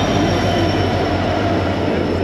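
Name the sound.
train arriving, Agartala to Silchar route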